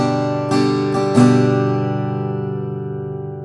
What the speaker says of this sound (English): the final chord I'm going to teach you in this video is called a open G